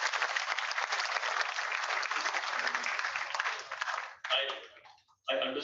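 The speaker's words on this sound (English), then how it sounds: "Come on, they deserve a round of applause," Sustained applause from an audience at the closing ceremony of the 2022 Asian Physics Olympiad, steady and dense for about four seconds before breaking off and briefly resuming, with some voices mixed in.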